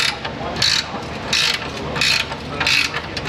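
Ratchet snugging down suspension bolts on a Tacoma, four quick bursts of clicking pawl strokes, close and clear over faint shop background.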